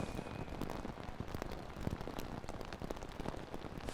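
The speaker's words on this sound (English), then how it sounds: "He got a gale of wind behind him, as you can see, the rain teeming across the ground" Heavy rain teems down across a rugby ground in a gale of wind, a dense, steady hiss with constant patter of drops filling the whole scene, no voices over it.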